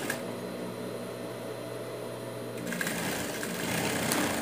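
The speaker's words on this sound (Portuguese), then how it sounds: "E vamos costurar." A sewing machine stitches the shoulder seam of a dog shirt, a steady mechanical whir that grows louder and busier partway through, with no talking.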